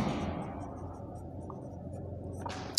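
Marker or chalk scratching on a board while an economics diagram of price against quantity demanded is drawn, a steady, moderately close scraping that runs throughout without speech, ending with a brief sharper tap.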